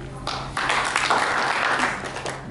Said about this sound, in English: Thank you for that rousing applause.